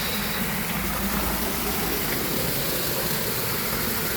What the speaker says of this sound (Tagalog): umapaw yung tubig yan dyan